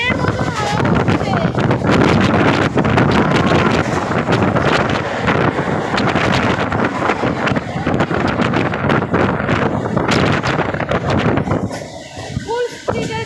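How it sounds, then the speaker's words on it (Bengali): Strong, storm-like wind roaring past a microphone on a train running at full speed, a loud continuous buffeting rush with a brief lull near the end and a voice speaking. "ঝড়ের মতন হাওয়া হচ্ছে।"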